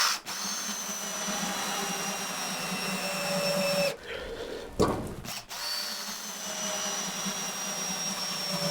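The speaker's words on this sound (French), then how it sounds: "j'ai juste à prendre une mèche, je prépare mes trous là, je mets mes vis dedans" Power drill running steadily while boring holes and driving screws into a solid maple door, a loud sustained whir close by, broken by a brief pause in the middle before the motor starts up again.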